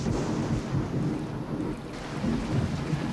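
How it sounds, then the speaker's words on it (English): Rumbling thunder rolls over steady rain in the video game Fran Bow, a dense low roar with swelling peaks lasting throughout, no talking. "The rain! The rain purifies them!"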